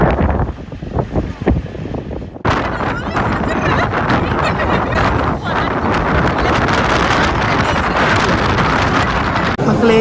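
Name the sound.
strong wind blowing on a beach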